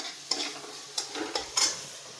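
Soybean curry sautés in a pan with a soft sizzle, while a spoon scrapes and stirs in several short strokes, close by.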